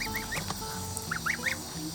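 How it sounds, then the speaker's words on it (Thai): One-month-old Tufted Toulouse goslings give a series of short, rising honking calls, several in quick succession near the start and again toward the end, over a steady background hum. "มาแล้วครับลูกห่านโทเล้าอายุ1เดือนนะครับ"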